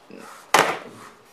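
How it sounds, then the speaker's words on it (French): A small drawer-like box holding a razor slides open, giving a single sharp woody clack followed by a brief scraping rustle, close up, with faint background noise before it. "c'est comme un petit tiroir en fait, vous ouvrez, hop, vous avez votre rasoir"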